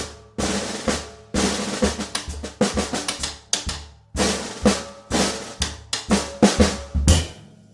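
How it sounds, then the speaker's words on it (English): Crisp, dry percussion hits in a lively rhythm: hollow wood-block clacks mixed with drum strikes from a drum kit with auxiliary percussion, played alone and close. "he had wood blocks, he had some other auxiliary percussion as a part of his drum kit"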